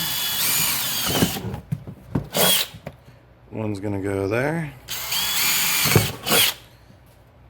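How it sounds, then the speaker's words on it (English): A power drill with a 3/8 bit whines loudly in several bursts, boring holes for a 48V lithium battery build, with someone speaking briefly between the drilling runs. "all I need for that is a 3/8 drill bit"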